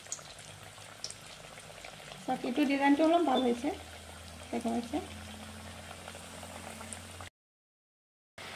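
Sondro puri frying in hot oil, a soft steady sizzle running through the clip while someone talks over it for a few seconds before the bubbling continues alone.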